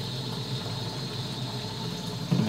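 Water is pumped through a pipe to fill a tank, a steady hissing rush with a low pump hum, continuous and fairly close, no voices.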